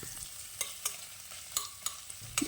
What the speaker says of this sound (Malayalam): അത് ചൂടായി കഴിയുമ്പോൾ 2 സവാള സ്ലൈസ് ചെയ്തതും 2 പച്ചമുളകും കൂടെ ചേർത്ത് കൊടുക്കാം.